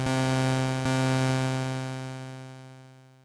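A sustained Sylenth1 synthesizer tone with rich harmonics holds steady, then slowly fades away in a long, smooth release tail.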